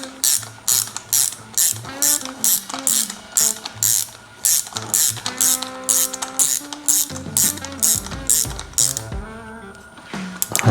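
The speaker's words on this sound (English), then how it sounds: "Just a 14mm with the spark plug tool." Spark plug tool on a 14mm socket ratcheting on a Yamaha YFZ450R engine during a top-end rebuild, a steady run of close, crisp clicking bursts repeating throughout, with no talk over it.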